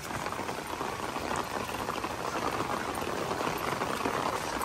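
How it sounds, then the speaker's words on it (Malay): Heavy rain pours down in Cameron Highlands, Malaysia, in a loud, constant roar of splashing drops, unbroken throughout. "Hujan lebat."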